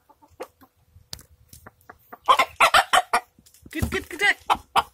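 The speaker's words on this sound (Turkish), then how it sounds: "Tavuklarımız," Chickens in a village yard near Adapazarı cluck in short irregular bursts, growing busier and louder toward the end, close by with no talk over them.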